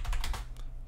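Keys clack on a computer keyboard while a command is typed into a text file, a short burst of close, crisp keystrokes that fades into quiet.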